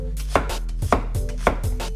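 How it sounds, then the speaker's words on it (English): A knife finely chops a fresh white onion on a cutting board, giving crisp, evenly spaced close-up thumps about twice a second, with no talking. "Ooh, white onions smell good. I'm gonna give them a fine chop."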